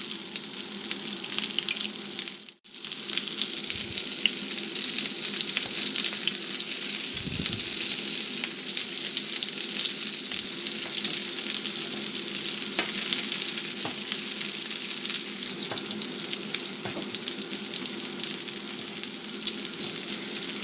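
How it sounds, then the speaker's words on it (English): Swedish meatballs fry in a pan with a loud, steady sizzle that holds for about twenty seconds, broken by a brief dip early on and an occasional faint clink or stir, with no talking. "we're going to let these cook on all the sides that we can until they're nice and brown"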